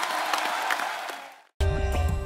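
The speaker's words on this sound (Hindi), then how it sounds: "एक बार पूरी सराहत टीम के लिए जोरदार तालियां हो जाए" Studio audience at a comedy talk show applauds loudly for the team, dense broadband clapping and crowd noise that fades out, breaks off abruptly, then returns as a bright, steady burst.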